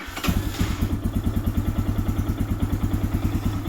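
A Lifan KPX 250 motorcycle engine idles steadily with a rapid, even thumping beat, close by after starting up with fresh oil.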